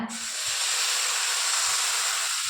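Uttapam batter poured onto a hot tawa sets off a loud, steady sizzle and hiss that starts abruptly and holds evenly, with faint soft thumps underneath.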